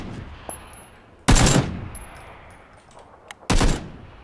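Two loud bursts of gunfire in the shooter game PUBG Battlegrounds, each a sharp broadband blast with a decaying tail, a few seconds apart over quiet game ambience with faint distant pops.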